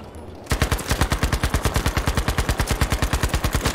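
Loud, steady automatic gunfire in Battlefield 4 / Battlefield V, with a rapid and even stream of close shots that runs unbroken after a quiet start.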